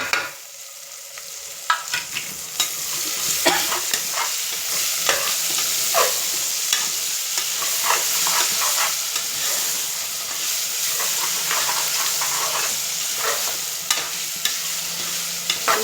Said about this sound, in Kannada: ಟೊಮಾಟೊನು ಸ್ವಲ್ಪ ಫ್ರೈ ಆಗಲಿ.